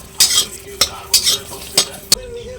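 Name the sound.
green chilies and garlic frying in a hot wok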